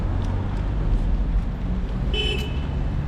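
Car horns honk in city street traffic in Poltava, one short, fairly distant beep rising out of a constant rumble of passing vehicles, with some quieter toots earlier.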